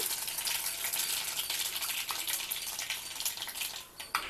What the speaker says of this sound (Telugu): ఇక్కడ కడాయిలో ఆయిల్ వేసాను ఇందులో కొద్దిగా ఆవాలు జీలకర్ర వేస్తున్నాను